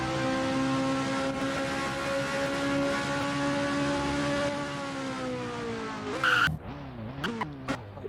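A car in the Roblox game Driving Empire holds a loud, steady engine drone with layered tonal harmonics, then the pitch shifts and it breaks into sharp tire skids and squeals near the end, with no talk.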